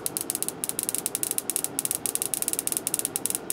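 Homemade Tesla coil sparking and flashing over, a rapid irregular train of sharp crackling snaps with bright hiss, steady and close, no voices.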